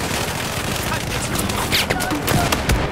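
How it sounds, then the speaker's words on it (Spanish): Heavy gunfire fills a Battlefield 4 shootout, a dense, loud, continuous clatter of rapid shots near and far with scattered louder cracks throughout. "¡Qué tiroteo, chicos!"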